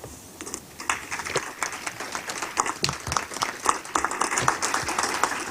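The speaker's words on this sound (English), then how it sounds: "And I think we ought to applaud that." Attendees at a transit board committee meeting applaud in a room, with scattered, uneven clapping that builds and stays moderately close throughout.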